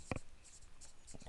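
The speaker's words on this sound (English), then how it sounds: "let me write this down here" Chalk or marker strokes on a classroom board during a statistics lesson, two quick scratchy marks close together, then a faint pause and a softer stroke near the end, brief and close.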